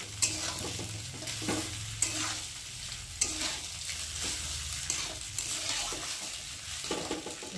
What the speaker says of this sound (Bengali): আর এখন আমি একে একে অল্প অল্প করে ভাতগুলোকে দিয়ে দেবো। দিয়ে ফার্স্টে একটু ভালো করে নেড়ে দেবো।